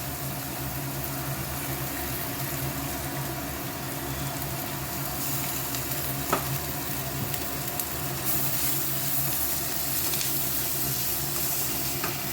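Chowmein fries in a hot pan just after a splash of vinegar, giving a constant, even sizzle with faint stirring ticks and no voices.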